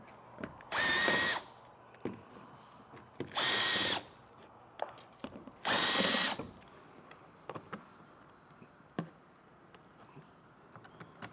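A power tool whirs in three short bursts, removing 7mm screws from the front fascia of a 2024 Ford Maverick during a base plate install, with faint clicks and handling noises between bursts.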